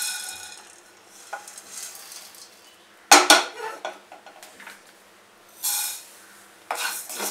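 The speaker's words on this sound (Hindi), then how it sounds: "पैन हमारा बहुत गर्म हो गया है, और साबुदाना इसे भी 1-2 मिनट हम सेकेंगे।" Sago pearls dry roasting in a very hot pan, heard as scattered scraping and clinking of a metal spoon against the pan, with a few sharper knocks and rattles between quieter stretches.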